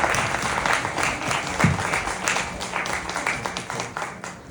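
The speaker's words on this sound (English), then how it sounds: "Let's get a round of applause for that" A round of applause from the audience at an expert interview event, dense clapping that holds steady for several seconds and then thins slightly toward the end.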